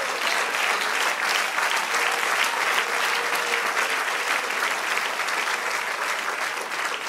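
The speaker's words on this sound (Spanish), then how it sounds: "Del aplauso al Señor." A church congregation applauds steadily and loudly, a dense, sustained wash of clapping from many hands that holds evenly for several seconds with no break.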